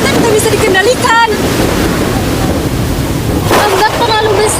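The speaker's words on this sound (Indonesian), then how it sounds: "Ombak terlalu besar. Kapal kita akan hancur menghantam karang." Stormy sea waves used as a theatre sound effect in a staged drama, loud broad surf and wind roar running continuously throughout, with voices speaking over the crashing water.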